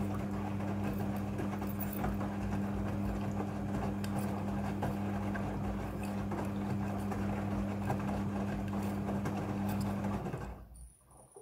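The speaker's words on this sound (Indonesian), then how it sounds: "Pada proses pembilasan dengan air, mesin cuci akan mengatur jumlah kebutuhan air secara otomatis." A Midea front-loading washing machine runs its rinse cycle with water: a steady, close mechanical hum with sloshing water and rhythmic tumbling, which cuts off abruptly near the end, leaving quiet.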